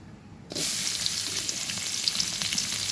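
Chopped onion and crushed garlic hit hot oil with a sudden loud sizzle after a quiet start, then a strong, even crackle continues to the end.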